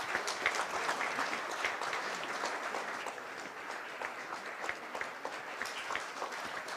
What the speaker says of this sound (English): Can we have a huge round of applause for all the volunteers?